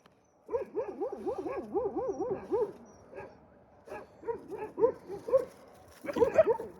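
A dog whimpers and yelps in rapid wavering cries, close by. Shorter whines and a few sharp barks follow in uneven bursts.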